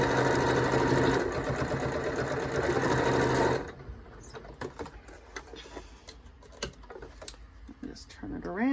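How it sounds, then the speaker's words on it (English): A sewing machine stitches across the pleats of a fabric face mask, a loud steady mechanical whir for several seconds that then stops, leaving soft handling clicks and rustles of fabric close by. "I'm just gonna lower the presser foot at about 3/8 of an inch and go across the pleats"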